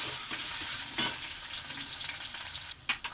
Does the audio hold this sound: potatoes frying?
yes